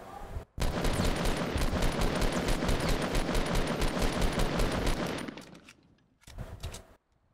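Gunfire in Fortnite, a long burst of rapid loud shots that stops abruptly, then a few short bursts follow.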